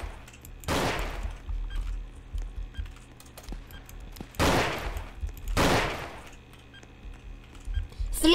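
Gunfire rattles through a Roblox Zeppelin Wars battle. Three loud bursts crack out at intervals over a steady background of clicks and faint shots, with no voices.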